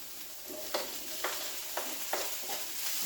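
Leftover meat and broccoli in a stir fry sizzle steadily in the pan, with faint rhythmic scraping stirs every half second, close but soft.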